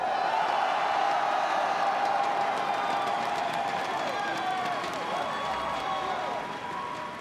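A large esports arena crowd cheering and applauding after a world finals grand final, loud sustained roar with clapping and whoops, an announcer's voice faintly over it, tapering slightly at the end.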